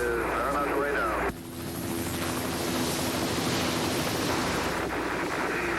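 A recovery helicopter hovers low over the Apollo 11 spacecraft floating on the ocean after splashdown in 1969. Its dense, steady rotor and engine roar stays loud and close throughout, with a brief voice near the start.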